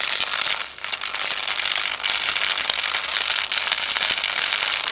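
Capacitors and a circuit board arcing to earth, giving a loud, continuous crackle with sharp snapping pops throughout and no voices.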